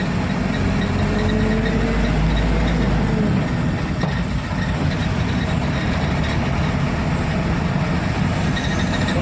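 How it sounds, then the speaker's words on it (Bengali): A GM machine engine runs steadily at close range, a continuous loud mechanical rumble with a heavy low-end drone that holds through the whole stretch, with no talking. "এই যে আমাদের জিএম মেশিন"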